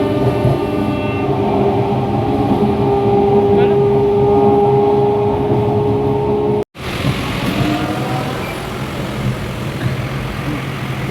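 A moving train heard from inside an empty carriage, with a steady loud rumble and hum of wheels on rails that drops out briefly, then resumes rougher and noisier.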